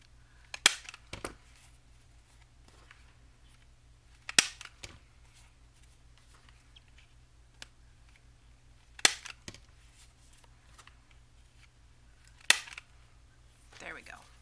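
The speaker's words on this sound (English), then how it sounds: "go ahead and corner round these" Corner rounder punch snapping through paper journal cards and tags, four sharp separate clicks spaced a few seconds apart over a quiet room, with a softer click near the end.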